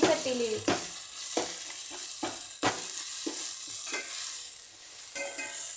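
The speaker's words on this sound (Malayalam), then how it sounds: "വെളുത്തുള്ളിയും ചതച്ചത് ഇട്ട് കൊടുക്കുന്നുണ്ട്" Crushed ginger and garlic frying in oil in a steel pan for chicken curry, a steady bright sizzle broken by repeated stirring scrapes and spoon knocks, close and continuous with no talking.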